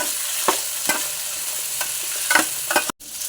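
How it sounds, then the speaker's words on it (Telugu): Cauliflower, potato, carrot, mint, coriander, tomato and green chillies fry in a pan while a utensil stirs them, giving a continuous sizzle broken by several sharp scraping strokes and a brief cut near the end. "ఇప్పుడు ఇవన్నీ బాగా ఫ్రై అవ్వాలి."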